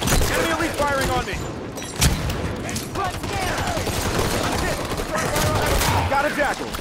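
Rapid enemy Elite gunfire crackles in bursts during a Halo 5 Warzone Firefight battle, loud and close, mixed with other combat noise and shouted speech.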